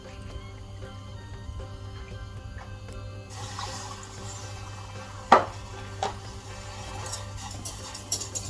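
Sugar and then water are poured into a heated pan for baklava syrup, a soft trickling pour under a steady background hum, with a few sharp clinks and splashes toward the end.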